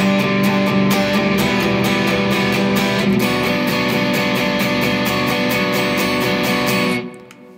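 Distorted electric guitar plays the middle eight of a song with dense, driving rhythmic strumming, loud and close, then stops abruptly near the end.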